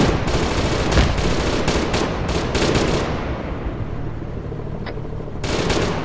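A gun mounted on a vehicle firing in a video game, a dense rapid burst that rattles on for several seconds before stopping and then starting again. The fire is loud and close, over the low rumble of the vehicle.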